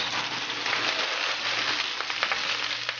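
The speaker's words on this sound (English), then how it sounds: "I'm going to go straight back into this pan. A little oil. My spinach." Fresh spinach sautéing in a little oil in a hot pan gives a steady, close crackling sizzle with scattered pops, constant and even throughout with no talking.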